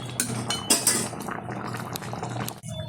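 A spoon stirring Bengali fish curry made with small catfish, poppy seed and coriander as it boils in a pot on high heat: metallic clinks and scrapes against the pot over bubbling liquid, close, with no one talking.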